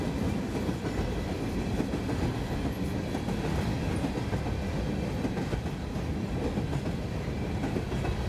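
BNSF coal train passing on the Fort Scott subdivision, heavy loaded cars rolling by with continuous close rumble and rhythmic clickety-clack of wheels over rail joints, no voices.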